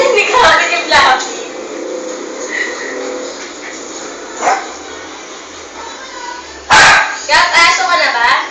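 A voice barks and yips, imitating a dog, in several sharp bursts, with pauses and some noisy handling between them.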